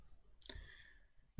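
A single computer mouse click sounds during FreeCAD 3D assembly work, sharp and close, followed by faint room noise and a second click at the end.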